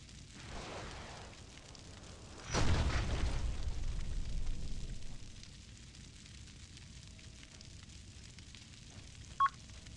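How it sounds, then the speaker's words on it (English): A missile fired from an OSP rocket shuttle in a video game, a heavy blast that rumbles and fades over a couple of seconds, followed by a short electronic beep in a quiet background. "Missile away."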